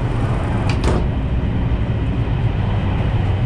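Steady loud rumble and rushing roar of an Austrian high-speed train at 200 km/h, heard from inside a carriage, with a brief higher whine early on, no voices.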